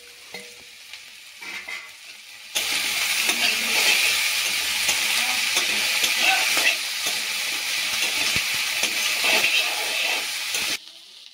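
Chopped tomatoes tipped into a pan with peanuts for sabudana khichuri, then stirred, give a steady loud sizzle and frying hiss with scraping stir strokes. No one talks.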